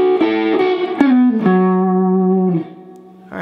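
An electric guitar with overdrive and effects plays a lick alone: a few loud sustained notes with slides and bends dropping in pitch, ending in a quieter tail.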